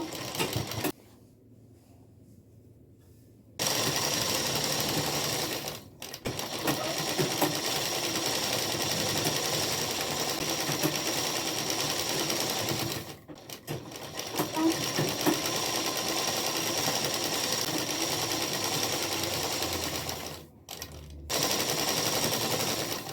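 A sewing machine stitching along a folded salwar belt: a rapid, steady mechanical chatter that runs in long bursts, stopping briefly several times between seams, close and clear.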